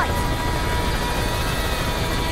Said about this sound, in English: Alright, helicopter.